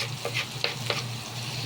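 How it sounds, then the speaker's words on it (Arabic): A utensil stirs onion, peppers and tomatoes frying in a pan, with a steady sizzle and a few distinct scraping strokes at a gentle rhythm, close up with no voices. "نقلبهم كويس طبعا"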